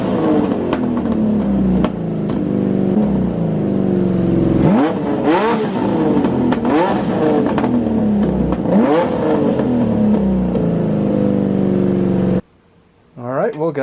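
A Honda CBX six-cylinder motorcycle fitted with a Delkavic exhaust, running on all six cylinders after about 20 years idle, revs loudly and repeatedly in rising, falling sweeps up close, then cuts off abruptly near the end before a faint restart.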